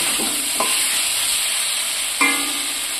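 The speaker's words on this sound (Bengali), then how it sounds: "এবার সমস্ত কিছুই একই সাথে কষে নেব।" Fried eggs and soybean curry stir-fried together in a pan give a loud, continuous hiss. Two scraping strokes of the spoon rise above it.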